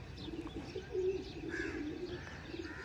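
Several pigeons perched on a net coo in low, rolling overlapping calls, close and steady, with a few faint chirps above.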